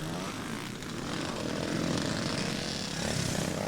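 A big Husqvarna TC 510 four-stroke motorcycle racing at a twinshock and evolution meeting in Stirling, giving a loud, continuous engine roar that swells slightly as the bike passes nearby.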